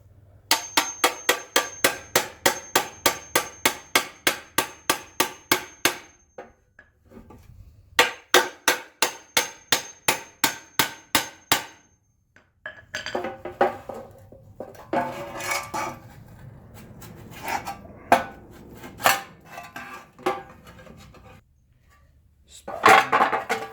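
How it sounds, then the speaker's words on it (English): Rapid metallic clanking and ringing hits in quick bursts, then scraping, prying and banging as a drilled-out spot-welded cab corner panel on a Ford F250 is broken loose, sharp and close with pauses between. "now I'm just using my breaker where I did drill the spot welds out"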